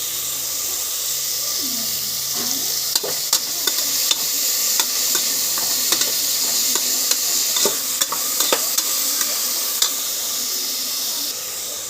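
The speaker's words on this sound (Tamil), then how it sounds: "வெங்காயம் வதக்கிச்சு நமக்கு தேவையான அளவு உப்பு போட்டுக்கலாம் அப்போனா வெங்காயம் கொஞ்சம் சீக்கிரமாகவே வதங்கிடும்" Onions sautéing in a pan with salt added give a steady broadband sizzle throughout, punctuated by sharp clicks and scrapes of a utensil stirring against the metal, fairly close and alone without talk.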